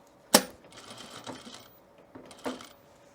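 A sewing machine stitches a dart on a half pant form, opening with a sharp, loud burst, then a softer running whir that pauses and returns with a second brief burst near the end.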